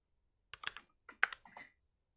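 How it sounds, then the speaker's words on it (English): Keycaps tap on a plastic keyboard in two quick bursts of clicky strokes, close and fairly quiet, with silence between and after. "what you're hearing is the sound of the keycap"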